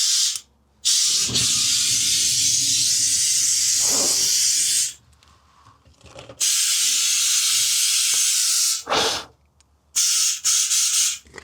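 Starting fluid sprayed from an aerosol can into a tire to reseat the bead on the rim, in a parking lot: two long loud hissing bursts of several seconds each, separated by short gaps, with small clicks between sprays.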